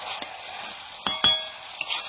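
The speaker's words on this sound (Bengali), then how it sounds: "হালকা জ্বালানিতে মাংসটা কষিয়ে নিচ্ছি" Chicken sautés over a low flame with a quiet, continuous sizzle, broken by a few distinct scraping strokes of a spatula across the pan, no talking.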